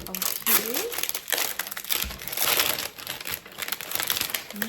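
Plastic packaging around a large self-adhesive refrigerator liner crinkles and crumples continuously and loudly up close as it is unwrapped, while a person talks over the rustling.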